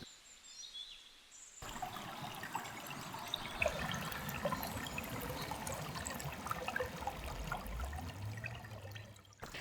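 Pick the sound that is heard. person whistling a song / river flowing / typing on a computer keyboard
river flowing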